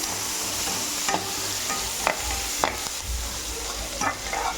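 Onions with fennel seeds frying and being stirred in a pan for an anchovy fish gravy, a steady sizzle with a few sharper scraping clicks of the spoon against the pan.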